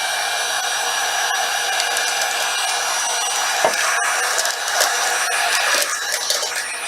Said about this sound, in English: And I'm going to use my heat gun.